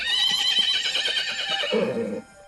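A horse whinnies in one long, loud, trembling neigh that drops in pitch and fades out at the end.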